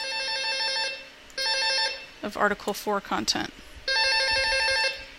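A phone's ringtone plays in two loud, steady bursts. Between them a person speaks briefly over a quiet gap, and the ring returns close and clear.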